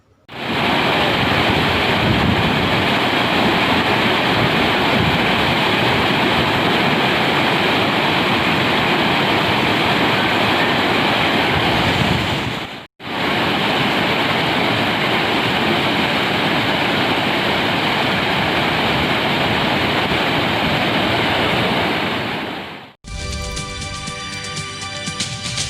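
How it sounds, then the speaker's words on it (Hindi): The swollen Tanda river in flood after three days of rain gives a loud, continuous broadband roar of rushing water, steady and close, with two brief cuts and no talk. "बीते 3 दिनों से हो रही बारिश के बाद एक बार फिर से टांडा नदी उफान पर है"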